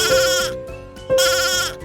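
Lambs bleat in a children's farm song, two loud drawn-out bleats separated by a short pause, set against the song's backing music.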